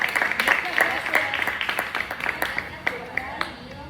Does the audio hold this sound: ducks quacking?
no